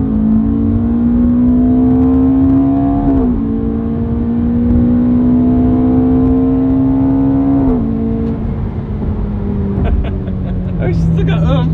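Ferrari F430 accelerating hard, its engine note climbing steadily and dropping at each quick gear shift, loud and sustained from inside the car, with voices talking over it near the end.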